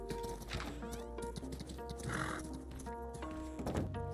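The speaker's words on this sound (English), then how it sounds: "Man, so many horses." Horses neighing and whinnying over a busy mix of clip-clopping hooves, with several calls overlapping in a lively, close-up herd scene in the game Rust.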